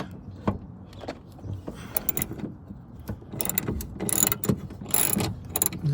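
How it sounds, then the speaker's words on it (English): A 12mm socket wrench ratchets out the bolts of a van's power sliding door motor, giving quiet, rapid mechanical clicking close by that grows louder and busier toward the end. "I'm then going to go ahead and remove the bolts."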